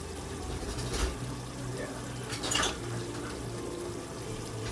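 Cooked instant noodles from a Kikkoman gluten-free kit are drained, with a steady splashing pour of hot water running throughout, a couple of louder gushes, and a low hum in the background.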